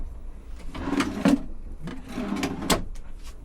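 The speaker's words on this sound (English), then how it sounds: "More drawer space down below. Very sturdy drawers." Sturdy drawers in a Mercedes Sprinter camper van slide open and shut several times up close, each with a rolling rumble and a knocking thud.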